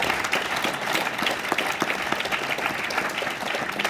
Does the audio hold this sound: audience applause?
yes